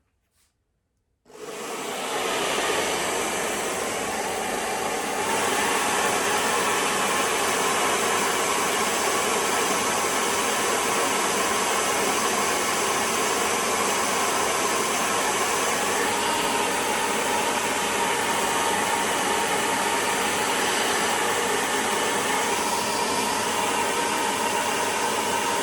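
A hairdryer blowing steadily on a watercolor painting, a loud continuous broadband whoosh that starts abruptly and holds at an even level throughout, with no voices.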